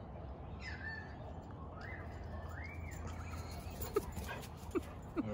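A dog in or around a caravan whimpers in thin, rising whines, then gives a few short yips near the end, fairly faint over a steady low rumble.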